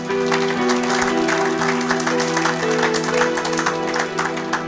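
Applause from a church congregation fills the space, a steady dense wash of clapping that holds at an even loud level, with voices mixed in underneath.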